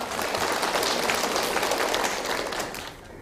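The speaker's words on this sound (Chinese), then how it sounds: "来，给这位朋友掌声鼓励一下。" A lecture audience applauds together in steady, dense clapping that fills the room, then thins and fades in the final moments.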